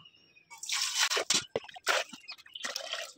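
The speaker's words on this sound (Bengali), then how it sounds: "কুলটাকে ভালো করে জল দিয়ে ধুয়ে নেব।" Wet splashing and sloshing as small jujube fruits are rinsed by hand in water in a basket, irregular close bursts of dripping and squishing with short pauses.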